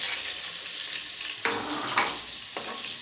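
Chopped garlic going into a pan for ginisang upo with ground meat gives off a steady hiss, and a few short stirring scrapes cut through it. No one speaks.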